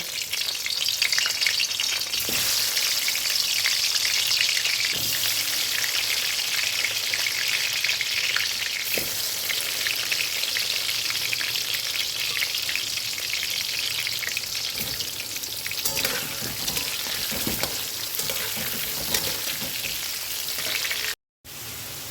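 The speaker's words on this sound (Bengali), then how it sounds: "কড়াইতে পরিমাণ মতন সর্ষের তেল দিয়ে আমি কিন্তু গরম করে নিয়েছি তোমরা দেখতেই পেলে এবার আমি আলুগুলোকে একটু লাল লাল করে ভেজে নেব" Potatoes fry in hot mustard oil in a wok, a loud, continuous crackling sizzle with occasional soft scrapes of stirring, heard up close without talk.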